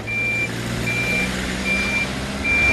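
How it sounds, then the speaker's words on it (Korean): A cargo truck idles with a steady low rumble at a Seoul laundry factory while high reversing beeps sound at regular intervals over it. "요란한 짐차 소리와 함께 일과가 시작된다"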